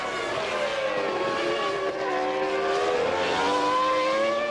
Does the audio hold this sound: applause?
no